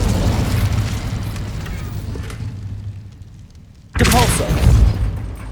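Incendio fire spell blast in Hogwarts Legacy, a rumbling magical roar that fades toward quiet, then a sudden loud burst of flame erupts and swells again at close range.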